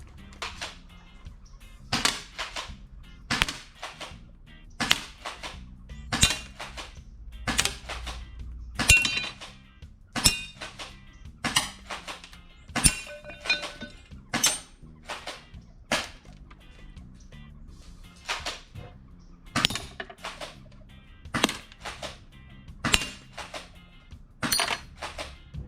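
A Double Eagle M3 spring-powered airsoft tri-shot shotgun fires BBs at a target about 30 feet away, giving a long series of sharp, close snapping shots at a steady pace with faint mechanical clicks between them.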